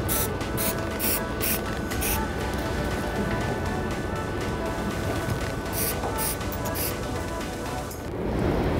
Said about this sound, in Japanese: その上からフッ素樹脂が含まれるスプレーで塗装していきます